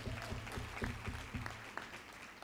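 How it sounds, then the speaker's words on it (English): Applause from a conference audience is faint and distant, a brief patter of scattered hand claps fading within a couple of seconds. "Yes, that is in fact worthy of an applause."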